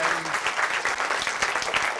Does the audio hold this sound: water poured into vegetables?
no